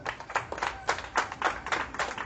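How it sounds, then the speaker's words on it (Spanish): A church congregation claps during an evening worship service, a short run of fairly close, uneven bursts of hand claps with no voices over it. "Vamos a darle un aplauso al Señor en esta noche."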